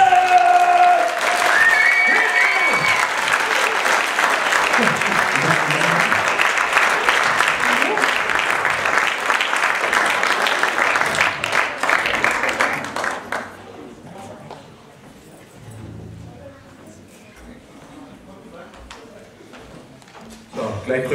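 Audience applause at a children's music festival in Oldenburg as a performer is welcomed, a dense crowd clapping for about thirteen seconds before fading into quieter hall noise with faint voices.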